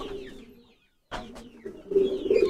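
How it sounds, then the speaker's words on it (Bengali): A champion racing pigeon from an old loft coos close by in a few throaty phrases, with a brief silent gap and quiet background rustle. "এটা একটা লাকি কবুতর আমার বাসার"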